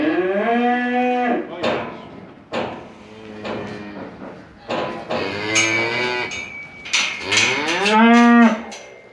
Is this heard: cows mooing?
yes